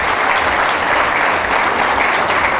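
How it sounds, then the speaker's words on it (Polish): A large audience at a dance event applauds loudly and continuously, a thick wash of clapping from many hands with no voices standing out. "Wielkie brawa dla sponsorów."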